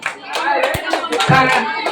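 A birthday event audience claps in a short, loud burst of mixed hand claps and chatter, with voices mingling through the applause.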